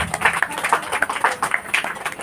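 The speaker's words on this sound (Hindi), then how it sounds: "आप लोग हाथ उठाइए, ताली बजाइए" Scattered hand claps from an audience at a live Navratri religious discourse, light and uneven rather than full applause, fairly distant in a reverberant hall.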